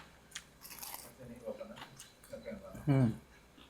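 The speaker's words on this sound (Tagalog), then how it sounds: "Bawat kagat mo, pumuputok dahil sa crispiness." Someone bites into crispy fried chicken with crunchy snaps and chewing up close, ending in one louder crackling bite, with speech around it.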